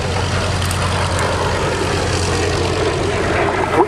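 A T3A jet trainer with a Viper engine at an airshow gives a loud continuous roaring rumble that holds steady throughout, with no voices.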